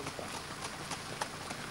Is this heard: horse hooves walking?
yes